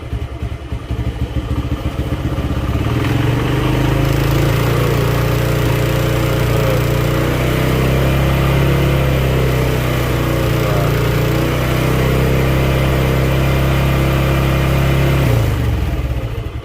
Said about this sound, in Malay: Increase RPM 2500 for 5 second.